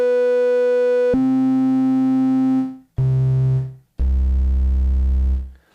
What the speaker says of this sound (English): The sound that I have on the Rev2 is a kind of bass patch, it's monophonic